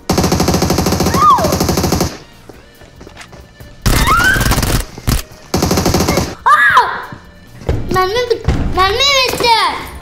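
Rapid gunfire bursts from PUBG Mobile gameplay, loud and close, broken by short pauses, with excited children's voices talking over the shooting.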